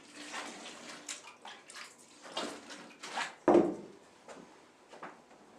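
Water goes into rye flour with sourdough and salt for rustic bread, a gurgling pour with a sharper splash midway and soft bowl and wood knocks around it, close and moderately quiet.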